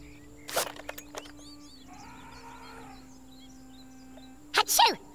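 A single sharp sneeze bursts out near the end of a quiet stretch, loud and close, after a few brief clicks and a soft warbling game effect from a Worms Clan Wars session.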